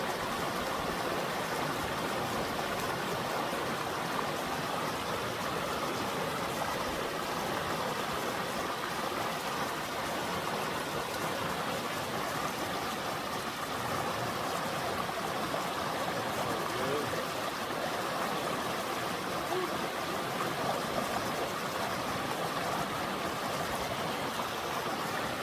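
Water rushes steadily over rocks at a stream and waterfall crossing on a hiking trail, a constant broadband wash that stays even and fairly distant throughout with no other sounds.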